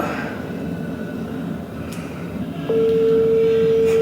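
An outgoing phone call's ringing tone begins partway through as a single steady, loud electronic tone that holds to the end over a low ambient background, with no voices.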